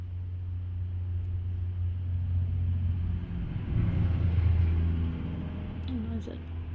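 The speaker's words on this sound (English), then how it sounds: "And there's a dump truck going through" A dump truck passing outside near a house under construction, a low steady rumble that swells and fades in the distance beneath a quiet indoor room.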